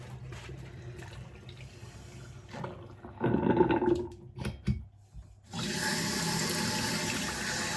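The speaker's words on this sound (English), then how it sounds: "now I'm going to get some clean water and I'm going to rinse" Clean water, not too hot, rinses a fresh tattoo during cleaning: running, splashing water comes in brief bursts, pauses, then flows steadily for the last couple of seconds, close by with no talking.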